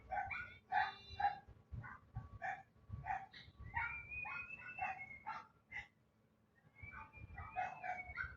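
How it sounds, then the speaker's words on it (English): A small dog yips and barks repeatedly in quick bursts, fairly close. Faint bird chirps and background noise run underneath, with a short lull before the barking resumes. "hello, the small dog"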